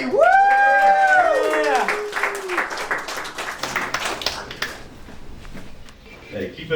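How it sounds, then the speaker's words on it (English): A comedy special audience applauds and cheers a comedian, a burst of clapping and crowd noise starting loud and tapering off, with a host's voice and whoops over it. "give a nice round of applause for Patrick O'Malley"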